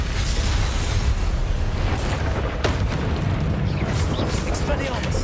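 Confringo spell explosions in Hogwarts Legacy rumble continuously as a dense, loud roar of booms and bursts with a brief crack near the middle, with game sound layered over it.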